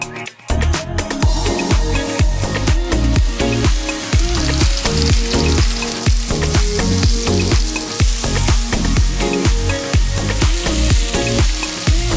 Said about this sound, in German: Nach dieser super kurzen Vorbereitungszeit geht es auch schon ans Anbraten.